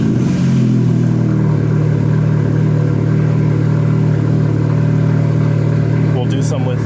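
A manual car's engine idles with a steady, close rumble and revs lightly, ending with a few brief sharp noises.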